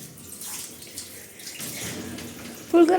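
Hot water runs and splashes into a bath while a small child is washed, a steady watery wash with a louder splash near the end and faint talk in the background.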